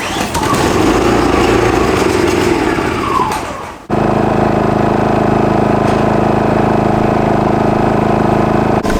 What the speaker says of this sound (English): Are we sure it is a petrol generator, not a diesel generator?